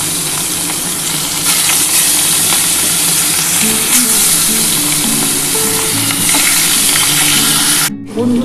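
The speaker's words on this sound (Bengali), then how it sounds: "এবার আমি একটা একটা করে ভেজে নেব।" Rohu fish pieces, salted, fry in hot white oil with a steady, loud, close sizzle and crackle throughout, broken by a brief dip near the end.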